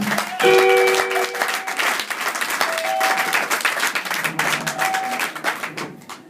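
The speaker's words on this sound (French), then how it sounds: "On peut applaudir pour Jésus-Christ." A church congregation applauds for Jesus Christ, sustained crowd clapping with sharp individual claps standing out, briefly overlaid with short sung or cheering tones.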